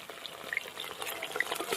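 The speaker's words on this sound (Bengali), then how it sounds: "এবার চিকেন এগুলো ভালো করে ভেজে নেব" Chicken pieces fry in white oil in a wok, a faint, brief crackling sizzle with scattered small pops.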